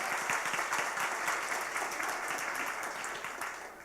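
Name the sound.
audience applause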